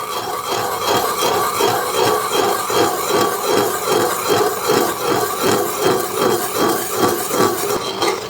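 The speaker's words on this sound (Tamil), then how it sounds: "பொங்க பொங்க அப்படியே கரண்டியால் கிண்டி கொண்டே இருக்க வேணும்" A spoon works steadily through thickening java plum jam in a pot, giving a continuous close scraping and stirring texture in an even, repeated rhythm with no talk.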